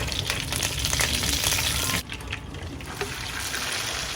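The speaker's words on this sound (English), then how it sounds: "In that I am adding 2 strands of curry leaves." Curry leaves sizzle loudly in 4 to 5 tablespoons of hot oil in a kadai, a steady close crackling hiss that drops suddenly partway through and then continues more softly; no talk.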